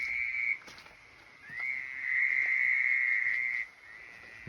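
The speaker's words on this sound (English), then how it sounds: "I think they're toads" Toads call at night on Tortuga Ranch in wet, misty weather: a high, sustained trilling croak rises, fades briefly, then returns in a longer, louder trill, with faint insect-like background.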